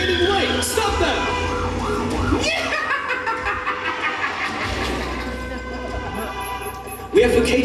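An ambulance siren wails loudly during a live furry puppet show in Berlin, its rising and falling tone running over excited shouting and audience laughter, with a sudden louder burst near the end.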